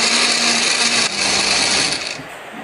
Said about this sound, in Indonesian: Di sini aku menghaluskannya menggunakan blender.